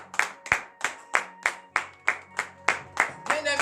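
A congregation at a morning prayer service claps in a steady, even rhythm, about ten close, sharp claps with ringing room echo.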